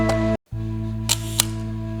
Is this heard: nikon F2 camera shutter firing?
yes